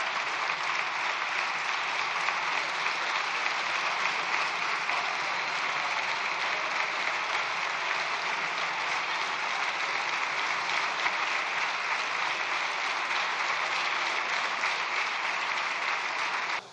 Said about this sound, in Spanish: Creo que está todo dicho con el aplauso que ha recibido de los distintos grupos parlamentarios.